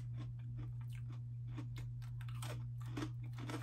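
Crunchy chewing of Cheetos pretzels in Flamin' Hot and cheddar flavors, close to the mic, with steady bites and crunches over a constant low electrical hum and no talk.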